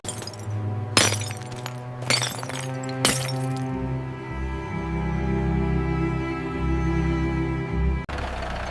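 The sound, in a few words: barn window glass shattering from a ball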